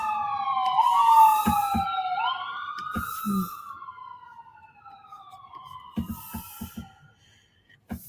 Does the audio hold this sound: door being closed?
no